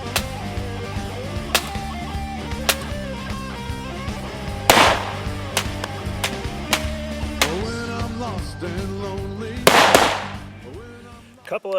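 A Sphinx Arms SDP Compact Duty Black pistol fires two sharp, loud shots several seconds apart, each ringing out over a steady tonal background with a few lighter clicks between.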